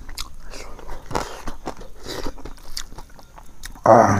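Close, crisp crunching bites of Naga shredded chicken pickle, a dry crispy Nagaland chutney, with a few scattered chews and then a loud burst of crunch near the end, heard alone with no talking.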